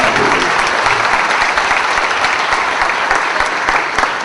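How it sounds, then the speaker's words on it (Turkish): Guests at an evening gala held by a journalists' association give loud, sustained applause, with dense, even clapping filling the whole stretch. "Onu alkışlar mısınız?"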